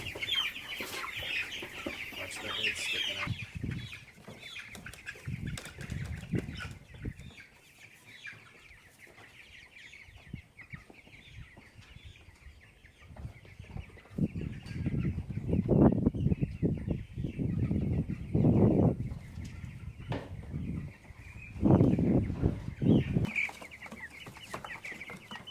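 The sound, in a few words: meat chicks clucking while being moved to pasture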